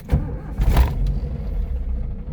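A 1990 Toyota Starlet EP80 with a 1.0 engine cranks and catches, a couple of short bursts of starter noise giving way to a low, steady idle rumble, close by.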